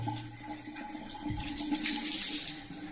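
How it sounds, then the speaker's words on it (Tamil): Water gushing from a repaired tap that had been leaking, a steady close splashing flow filling the whole clip with no talking. "இப்போ நம்ம ரெடி பண்ண டேப்பில் தண்ணி தந்தாச்சு"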